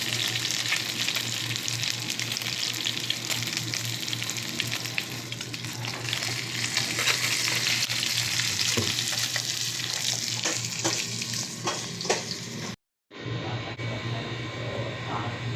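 Fish fries in soybean oil in a kadai, a loud, dense sizzle and crackle close up, with scraping stirs throughout and a brief dropout near the end before the frying resumes.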